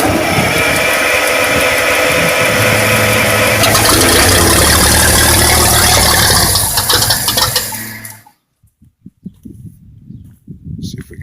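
A Bucyrus Erie 24L drilling rig engine, magneto-fired, cranks and runs loudly with a dense mechanical roar for about eight seconds, then cuts out abruptly, leaving scattered faint knocks and clatter.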